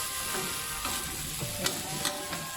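Glass noodles being stir-fried with soy sauce and sugar in a pan, with a soft continuous sizzle and scattered scraping, clinking stirs of the utensil against the pan, moderately near and with no talking.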